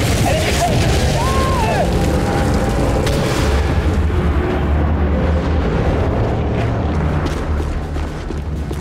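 A missile impact rumbles in The Bureau: XCOM Declassified as a loud, sustained boom and debris roar that fades slowly, under faint voices and battle noise.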